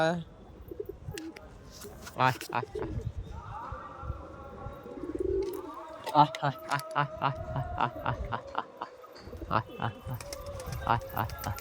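Pigeons coo in low repeated phrases among other bird calls, fairly close and moderately loud. Occasional taps and handling noises sound around them, and a voice is heard now and then.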